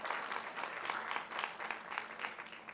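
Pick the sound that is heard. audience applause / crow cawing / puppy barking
audience applause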